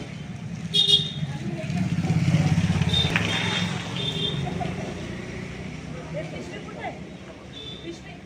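A motorcycle or scooter engine runs nearby with a low, steady hum. People talk over it, and birds and traffic sound faintly in the background.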